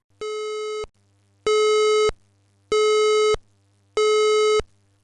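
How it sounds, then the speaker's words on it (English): Building emergency alert signal in a St Georges Terrace office tower: four loud, identical buzzing tone bursts of about half a second each, evenly spaced with short gaps, sounding alone and steady. "This is the alert signal."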